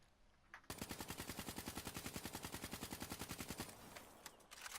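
A KN44 assault rifle in Call of Duty Black Ops III fires one long, steady full-auto burst of rapid, evenly spaced shots, loud and close, lasting about three seconds before stopping.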